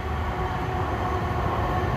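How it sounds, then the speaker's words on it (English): A city train rumbles past close by, a steady, loud and continuous roar of wagons on rails with no voices over it. "Hey, good morning, train."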